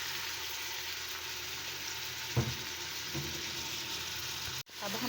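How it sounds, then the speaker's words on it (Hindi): Three finely crushed onions fry in a small cup of oil over a medium flame, giving a steady, close hiss with a couple of soft stir knocks midway. "अब हम प्याज को हल्का सा ब्राउन होने देंगे मीडियम फ्लेम पर"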